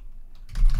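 Keystrokes on a computer keyboard while entering a command on a Raspberry Pi 5: a short burst of close, loud clicking that starts halfway through, after near silence.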